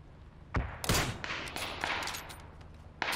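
Gunfire in PUBG: a couple of sharp, loud shots near the start, then scattered lighter cracks and distant reports, with another shot at the very end and no talk over them.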